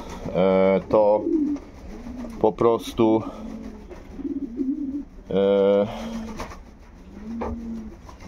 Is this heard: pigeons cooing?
yes